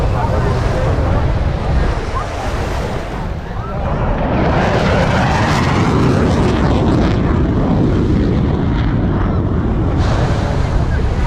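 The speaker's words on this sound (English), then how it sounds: "Four F-15s over Miami Beach." Four F-15 fighter jets pass over Miami Beach during an air and sea show, a loud, continuous roar that swells and surges across the whole stretch, blended with heavy wind buffeting on the microphone and surf noise.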